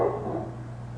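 A dog barks outdoors in a natural setting, a short bark or two heard at moderate distance over a steady low background hum, with no talking.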